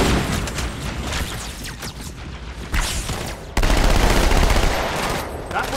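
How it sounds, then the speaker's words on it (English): Rapid gunfire in the Halo 2 Anniversary shooter, dense bursts of automatic shots with booming hits layered throughout, loud and continuous with a sharp surge partway through. "Am I shooting ahead or is it just easier?"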